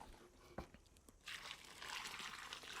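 Water pours from a bucket into a soil block mix, a soft trickle that swells into a steady, fuller gush partway through, close by with no talking.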